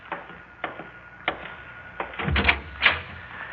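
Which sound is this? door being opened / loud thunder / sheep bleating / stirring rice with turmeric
door being opened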